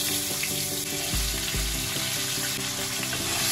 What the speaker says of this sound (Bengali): আলুটা হালকা লাল লাল করে ভেজে নেব।